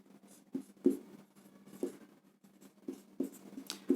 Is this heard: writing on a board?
yes